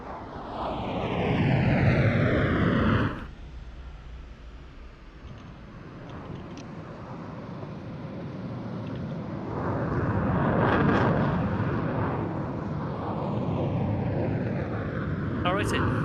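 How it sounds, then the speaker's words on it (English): Propeller airplanes land at an air show at AeroKosh 2024, engine drone rising and falling with a doppler-like sweep early on, then a lower rumble under a second pass, heard outdoors at moderate distance. "Now, as these 2 planes land"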